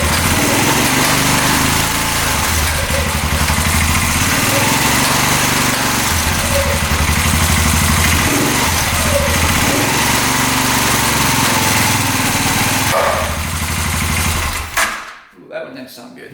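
A faulty UTV engine runs steadily at close range with a dense, buzzy mechanical drone and a faint repetitive clicking. It cuts off abruptly near the end, leaving a short stretch of low residual noise.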